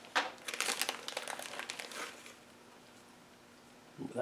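Plastic bag of dash camera accessories for a Pelsee mirror dash camera being opened, with close, busy crinkling and rustling for about two seconds, then quiet before a short final crinkle.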